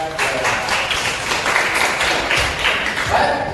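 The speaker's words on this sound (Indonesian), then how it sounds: "Boleh tepuk tangan buat" A classroom of children claps together, a fairly loud burst of dense, uneven clapping that runs steadily for a few seconds with faint voices mixed in.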